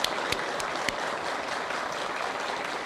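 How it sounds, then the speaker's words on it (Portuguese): Steady applause fills the Brazilian Senate chamber, many hands clapping continuously at moderate volume with no voices over it. "Estão liberados para dar uma salva de palmas aí."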